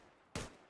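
A single gunshot from a shooter video game fired at an enemy's head, one sharp loud crack with a short tail, alone against a faint background.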